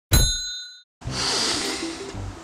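A bright notification bell rings once with a clear metallic ding that decays over about a second, followed by a burst of broadband whooshing noise.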